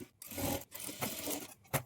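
A sewing machine stitches blouse lining fabric in short bursts of rapid whirring, separated by brief pauses, close and fairly quiet.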